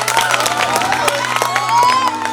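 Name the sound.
audience applause at Maithili song performance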